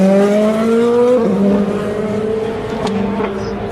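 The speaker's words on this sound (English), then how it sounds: "Another LMP2." An LMP2 prototype endurance race car accelerates past at the track, its engine note climbing through quick gear changes and then fading as it moves away. The roar is loud and close.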